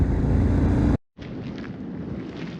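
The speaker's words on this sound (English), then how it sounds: "Bit windy." Strong wind buffeting the microphone on a road trip between Wave Rock and Esperance, a loud broadband roar that cuts out briefly before resuming steady and close.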